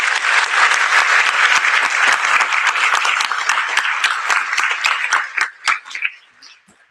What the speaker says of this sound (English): Let's have a round of applause for our people.